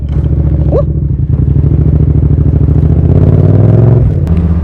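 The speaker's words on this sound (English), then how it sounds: "a nice bike" A motorcycle engine rumbles steadily nearby and swells as it rides past, with a brief rise in pitch and a continuous low drone throughout; no talking.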